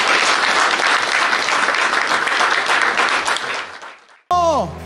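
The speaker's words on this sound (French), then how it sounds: "Une acclamation pour le Seigneur" A church congregation gathered for prayer bursts into loud, dense applause that holds steady for about four seconds, fades, then cuts to a voice speaking.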